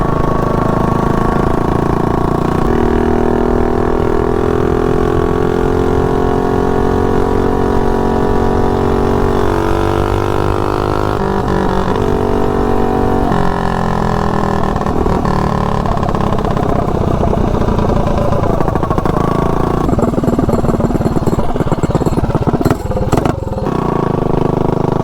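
A Rascal GT drag mini bike engine roars loudly and close while being ridden, its tone rising and falling with throttle changes through the ride.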